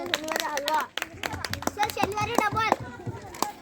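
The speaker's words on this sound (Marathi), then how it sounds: "त्यांच्यासाठी सर्वांनी टाळ्या वाजवा" A group of children clapping in rhythmic bursts, close and lively, mixed with excited children's voices talking and calling out throughout.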